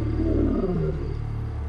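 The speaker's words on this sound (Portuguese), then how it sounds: "O rugido dele era dos mais estranhos e incríveis de todos os leões." A wild lion roars, a deep, loud, throaty call that swells and then tails off into lower grunting rumbles, alone without any voices.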